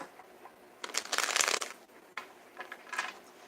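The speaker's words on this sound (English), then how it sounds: "I'm going to shuffle this 2 more times." A deck of cards is shuffled up close, a quick riffling burst followed by a second, softer shuffle.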